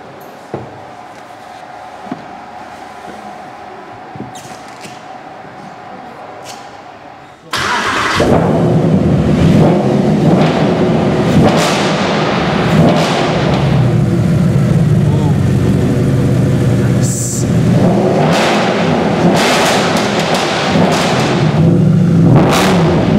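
A quiet idle gives way to a sudden loud Mercedes SLS AMG engine roar that holds and revs steadily for many seconds, close by, at AMG in Affalterbach.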